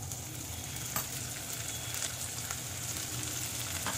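Cumin, grated ginger and chopped green chillies fry in a pan over medium flame, giving a steady close sizzle with faint stirring taps throughout, no voices.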